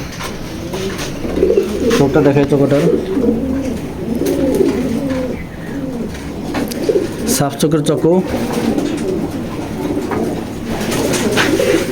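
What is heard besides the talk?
pigeons cooing in a loft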